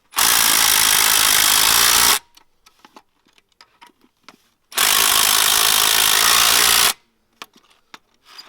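A lower-profile hammer drill boring through a metal security lid and masonry, two loud sustained bursts of about two seconds each, with scattered clicks, taps and debris rattles in the pauses.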